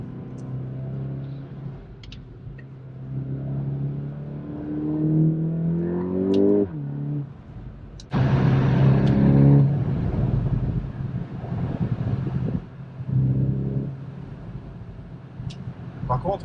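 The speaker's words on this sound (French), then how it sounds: "on entend vraiment fortement les sorties d'échappement" Volkswagen T-Roc R with 300 hp, its engine and exhaust heard from inside the cabin, rising through the gears in a swelling rev, then a louder surge, with someone talking over parts of it.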